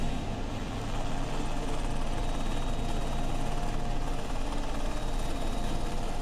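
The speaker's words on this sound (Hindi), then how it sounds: "129 हेलीकॉप्टर यूनिट के 4 Mi-17-6 हेलीकॉप्टर ने ध्वज फॉर्मेशन से फूलों की पंखुड़ियां बरसाईं" Four Mi-17-6 military helicopters fly in flag formation over a Republic Day parade, dropping flower petals. A loud, steady rotor and engine roar fills the whole stretch without letting up.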